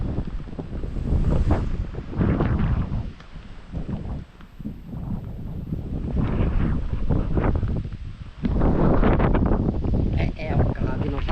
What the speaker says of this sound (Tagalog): Pagkalakas ng hangin, no?